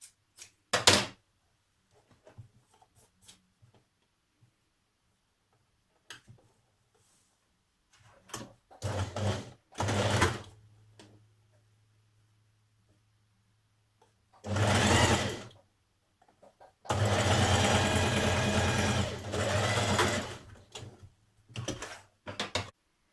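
A sewing machine stitches a seam on a jersey dress in several separate runs, short whirring bursts at first, then a longer steady run near the end, interspersed with small clicks, fabric handling and quiet gaps.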